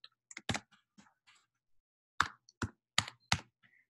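Quiet keystrokes on a computer keyboard as a list name is typed, irregular close clicks in two short bursts separated by a brief pause.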